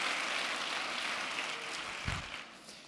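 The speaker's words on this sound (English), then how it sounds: "Give the moms a round of applause." A crowd applauds pregnant mothers at a live event, a wash of clapping that is moderately quiet and slowly fades toward the end, with a brief low thump near the close.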